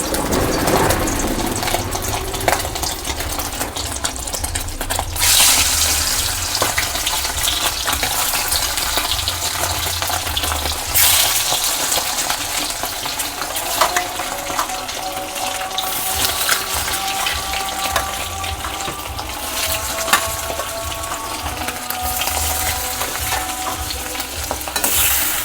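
Eggs frying in oil in a wok for a spicy egg curry, a steady close sizzle with stirring scrapes running through, loud and continuous without any talking.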